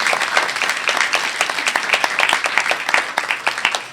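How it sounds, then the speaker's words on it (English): Steady crowd applause fills a school board of education meeting, many hands clapping at once in a dense, continuous patter that stays loud and close for several seconds with no talking over it. "Clap for her."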